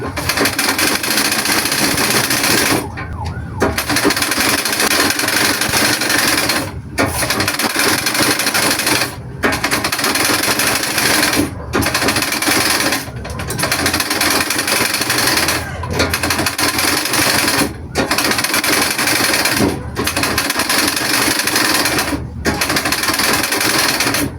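A treadle sewing machine runs loud and close in a steady mechanical whir, stopping briefly every few seconds before starting again.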